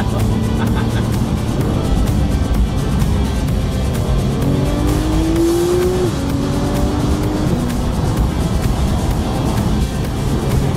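A Porsche 911 sports car on the move: a close, continuous engine drone with a clear rising rev sweep midway, steady road and tyre noise throughout.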